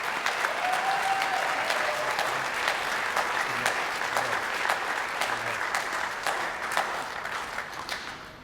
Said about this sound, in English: So I'd like you guys to all give a warm round of applause for Tegan Bacon, Pre-Tech Most Outstanding S